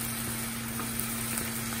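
Liver and onions fry in a pan, a dense, steady sizzle with a constant low hum beneath it, close and even throughout a short stretch with no talking.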